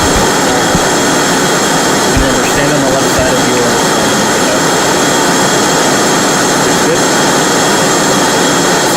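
Blue Angels jet engines roar in the VRChat game, a loud, unbroken, full-band jet whine and rumble that holds steady throughout, with some speech faintly mixed beneath.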